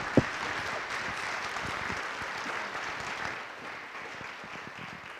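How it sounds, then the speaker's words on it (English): An audience at a community resiliency night applauds, a steady wash of many clapping hands that opens with a sharp near clap and slowly fades, with no talk over it. "Give her a round of applause."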